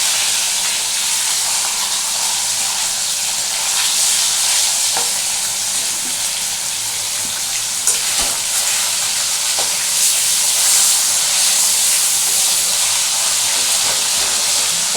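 Rohu fish pieces fry in oil in a pan, giving a steady, dense sizzle and hiss that holds for the whole stretch, with a few soft clinks and stirring noises on top and no talking.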